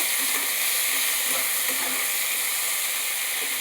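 Onion stalks, red amaranth stems and tomato fry in a pan for a vegetarian curry, a loud, steady, dense sizzle and hiss throughout with faint stirring underneath.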